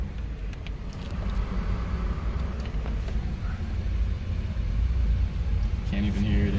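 A car engine idles quietly after an AMSOIL oil change, a low, even hum with faint background traffic and a nearby vehicle.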